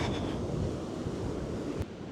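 Ocean waves wash up on a beach at a solo campsite in Australia, making a loud, constant roar of surf mixed with wind buffeting the microphone, then cutting off abruptly near the end.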